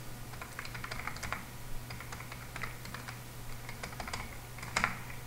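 Typing on a computer keyboard while writing code, with bursts of quick, uneven key clicks separated by short pauses over a steady low hum, close and moderately quiet, with no talking.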